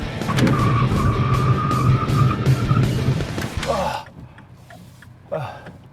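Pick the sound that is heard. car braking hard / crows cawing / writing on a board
car braking hard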